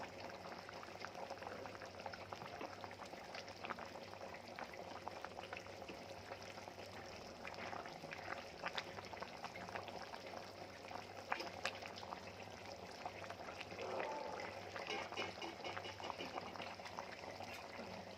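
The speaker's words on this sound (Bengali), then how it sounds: "এই যে মাছগুলো দিয়ে ফুটালে বন্ধুরা মাছের স্মেলটা যাবে ওর দিয়ে" Fish simmering in a pot of curry, a steady low bubbling boil with gentle liquid churning that runs evenly throughout at a quiet, close level.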